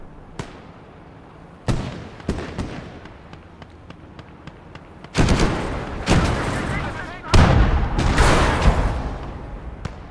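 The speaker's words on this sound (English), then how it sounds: "I think it just took a hit from a bazooka as well" A bazooka round striking a Panzer IV tank in a Battle of the Bulge war game, sharp blasts and rattling gunfire cracks building into loud sustained explosive roars, close and heavy, no talking over them.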